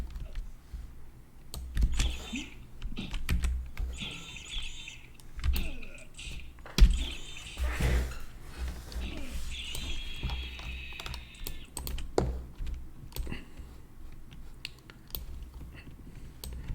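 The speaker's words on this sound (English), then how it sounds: "So the mouse clicks and keyboard clicks." Rapid computer keyboard typing mixed with sharp mouse clicks, close and fairly quiet, in an irregular patter that runs throughout during a session of Everquest Classic on P1999.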